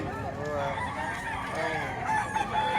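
Chickens and roosters for sale at a market in Padre Garcia, Batangas, crowing and clucking steadily and loudly close by, with people talking faintly in the background.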